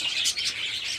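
Java sparrows in a breeding setup give rapid, high chirps in short overlapping bursts, close and fairly loud, with no talking.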